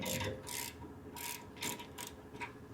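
Channel locks rubbing and ratcheting against a brake caliper slide pin on a 2017-or-newer Ford F-150 rear brake, a close, steady scraping and clicking grind with repeated bursts throughout.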